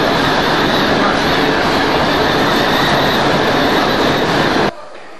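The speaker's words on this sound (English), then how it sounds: "trains in the station onto this double-decker train." A double-decker passenger train in an Italian station, a loud steady rumble of rolling wheels and carriage noise that fills the scene before cutting off abruptly near the end.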